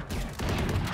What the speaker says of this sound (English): Oh, he's shooting through a wall.